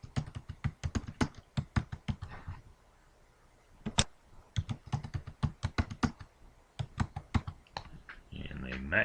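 A computer keyboard being typed on at a steady, fairly quick pace of crisp close clicks with a few short pauses, while someone talks quietly underneath during an Ubuntu setup in VirtualBox.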